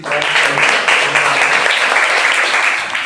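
Applause from a classroom of students fills the space, a dense, steady patter of many hands lasting a few seconds at even loudness with faint voices mixed in.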